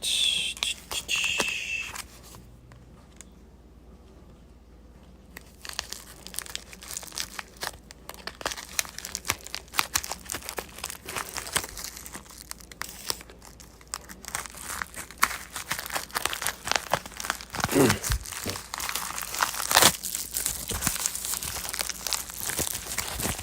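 Crinkling and tearing of packaging around purchased trading cards, near and fairly loud, with a quiet pause early on before steady rustling and crumpling resumes.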